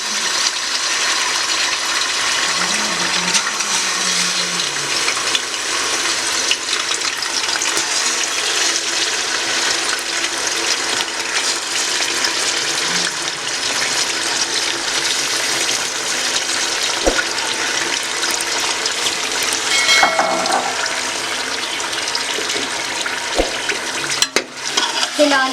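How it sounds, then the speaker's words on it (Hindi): Meat goes into hot oil for Sindhi biryani, sizzling and crackling steadily in a pot with occasional stirring scrapes and clinks, close and continuous without talk. "अब हम ऑयल में गोश्त को डालेंगे।"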